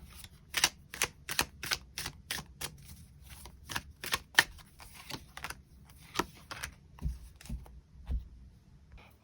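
Tarot cards being shuffled and drawn: a series of crisp, close card flicks and snaps in an irregular rhythm over several seconds, fairly quiet, with no talking.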